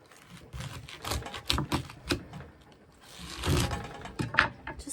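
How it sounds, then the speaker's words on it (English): A kitchen knife slicing through a whole cabbage to cut out its core, crisp crunchy cracks and snaps arriving in uneven clusters, close and fairly loud. "I like to split my cabbage from the top down around and cut through the middle of the core"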